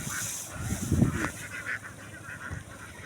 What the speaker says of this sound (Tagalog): Guys daming itik guys